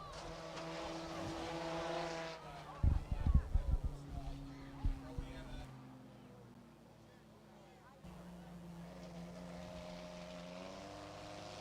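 Race cars in a Saturday drag race down the front stretch roar with rising engine pitch, swell loudly, dip and fade midway, then return as a strong, steady climbing drone.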